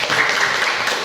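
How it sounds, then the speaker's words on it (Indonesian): A classroom group gives a short burst of applause, a brief, loud, dense patter of clapping lasting about a second. "kasih tepuk tangan dulu"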